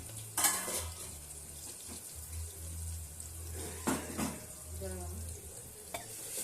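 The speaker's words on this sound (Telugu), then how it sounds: "కలుపుతున్నాము." Onion, ginger-garlic paste and turmeric fry in oil while being stirred, a constant close sizzle with a few scraping knocks of the spoon on the pan.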